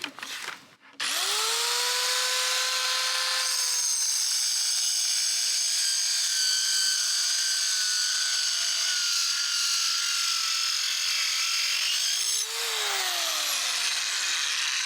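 Cheap mini circular saw cutting through a board about 20 mm thick: the motor spins up with a rising whine, holds a loud, close, strained cutting drone for roughly ten seconds, then winds down as the cut ends, with no voices.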